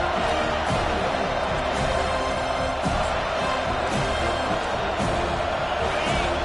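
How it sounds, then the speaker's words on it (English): A home crowd at a football game roars continuously, a dense, loud wall of cheering and shouting that stays steady throughout. "Here comes this home crowd as the defense tries to get off the field on third down."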